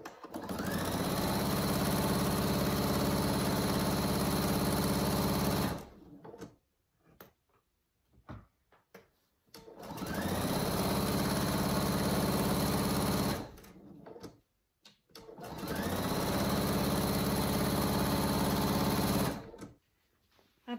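Three sustained bursts from a sewing machine running a half-inch seam on a cat carrier cover, each several seconds of steady close whirring separated by short quiet pauses, with no talk.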